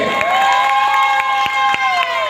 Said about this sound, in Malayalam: നല്ലൊരു കൈയ്യടി കൊടുക്കാം